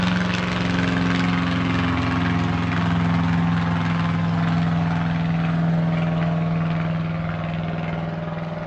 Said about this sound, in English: I'm going to wait for the airplane.